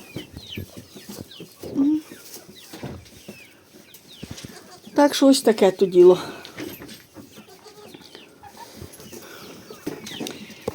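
A brief flurry of chick and hen clucking and cheeping rises in the middle, with a person talking before and after.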